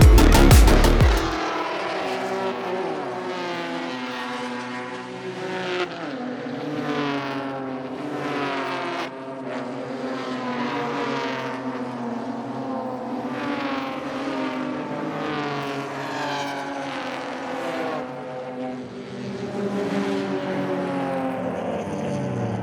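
BMW club race cars howl around a track, engines climbing and dropping through gear changes as several cars pass close by in a continuous loud stream.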